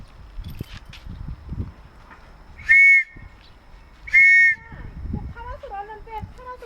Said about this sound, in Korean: 영국 경찰 호루라기